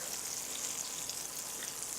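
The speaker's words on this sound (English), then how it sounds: "Do you hear that sizzle? That's what you want to hear, right?" Steady, dense crackling sizzle of meat frying in a hot pan, close and continuous with no talking.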